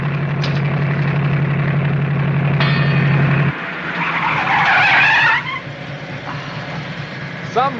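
Car brakes screech and tires skid loudly over a running engine drone, the squeal rising into a bright burst before tapering off, with an engine hum continuing beneath; a voice is also briefly present.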